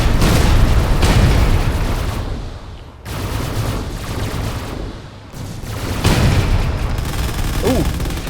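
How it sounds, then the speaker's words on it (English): Ship weapons fire in Space Engineers, a dense, loud barrage of booming gunfire that rolls on with brief dips before swelling again, with no one speaking over it. "it is my weapons firing"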